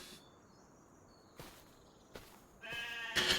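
Sheep bleat in Farming Simulator 25 on a farm with lambs and young goats, a few short calls spaced apart over a faint insect-like background hum, growing louder near the end.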